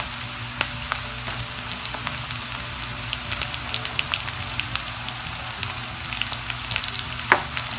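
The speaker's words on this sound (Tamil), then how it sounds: "கொஞ்சம் எண்ணெயில் வெங்காயம் வதங்கி வரட்டும்." Continuous sizzling and crackling of onions and green chillies frying in hot oil, with scattered sharp pops over a steady hiss.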